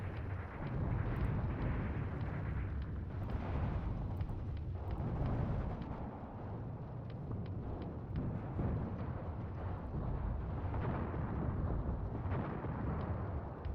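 Soviet WW2 artillery in a video game fires a continuous barrage of deep booming blasts with heavy rumble, steady and fairly loud throughout.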